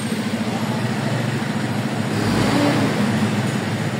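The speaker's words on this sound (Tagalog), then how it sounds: "Traffic." Road traffic rolls past on a street in Malolos, cars and trucks droning steadily close by, with a heavier vehicle swelling louder midway before easing back into the continuous engine hum.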